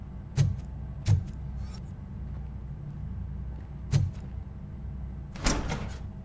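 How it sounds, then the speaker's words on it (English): A door opens in the video game RoboCop: Rogue City with several heavy mechanical clunks spaced a few seconds apart, then a brief hissing burst at the end, set over a steady low hum. "Now let me get that door open for you."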